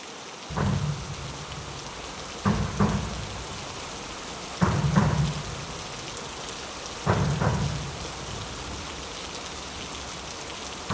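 Heavy, steady rain falls throughout over a riverside town, broken by four loud thunder cracks at roughly even intervals, each a short sharp burst with a low rumble.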